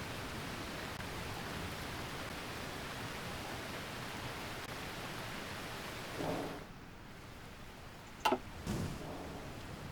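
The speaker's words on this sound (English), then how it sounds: "Sounds like some rain there, quite interesting." Rain ambience in the strategy game Hearts of Iron IV: a steady, even hiss of falling rain runs throughout, with a brief dip and a couple of sharp clicks near the end.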